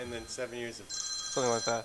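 A telephone rings indoors in brief high electronic bursts, partly overlapping with a person talking.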